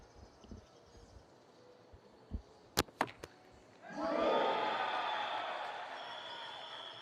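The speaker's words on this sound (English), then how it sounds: "It's great to hear the home crowd really cheering for him" A home crowd at the Puerto Rico Cup 2022 World Ranking Event bursts into loud sustained cheering and applause after a few sharp impact knocks in a quiet arena, the roar holding steady then slowly easing.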